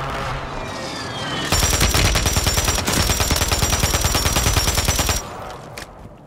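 Sustained rapid automatic gunfire in a video game, aimed at a mech near City Hall, bursting in loud and dense for several seconds before cutting off, with no talk over it.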